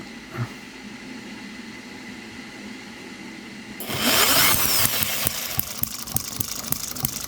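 A small 2cc hit-and-miss model engineer's engine, the M96 "Oddball", starts up midway after quiet background hum, then runs with a loud buzzing drone and regularly spaced firing pops, close by.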